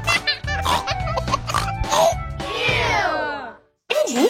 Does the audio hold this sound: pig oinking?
yes